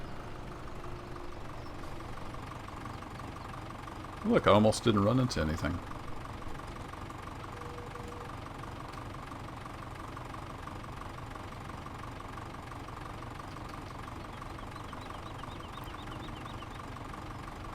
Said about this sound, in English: So we'll park this tractor right back over here.